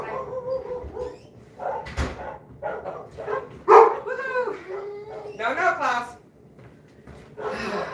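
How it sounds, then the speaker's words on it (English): Dogs bark and yip excitedly at a delivery arriving at the home, several sharp bursts mixed with whines, with a person talking over them. "Your dog is barking at my dog."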